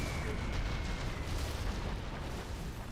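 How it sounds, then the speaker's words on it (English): Artillery fire rumbles in the strategy video game Zero Hour, a dense, continuous barrage of booms and blasts heard close and loud, with commentary voices over it. "Artillery coming in as well."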